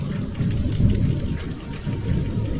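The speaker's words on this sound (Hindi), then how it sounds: "उसी वक्त बारिश भी शुरू हो गई" Steady, dense rainfall with a low rumble underneath, constant and fairly close, with no voices.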